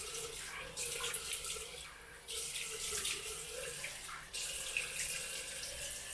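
Tap water runs steadily into a sink while a face is rinsed with lukewarm water, the flow surging and dropping in a few bursts with no voices.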